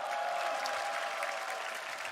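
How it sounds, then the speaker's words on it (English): Applause from the audience at the Dota 2 The International 2023 group stage, a steady broadband clatter of many hands clapping at an even level throughout, with no voices standing out. "A round of applause."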